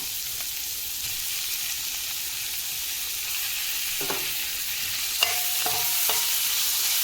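Steady hiss of onions and medium-sized tomatoes frying in a pan, with a few light scrapes of a spoon stirring near the end.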